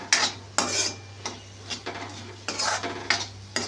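Onion and tomato sauté in a pan for kurma while a spoon stirs and scrapes, giving repeated clinks and scrapes over a low steady sizzle, with no voices.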